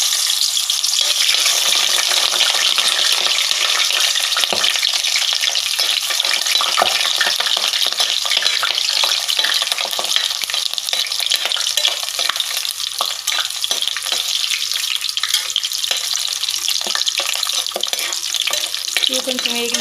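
Small fish sizzle loudly as they fry in a cooking pot, with a steady, dense hiss and the scrape of stirring running throughout, close and continuous, with no talking.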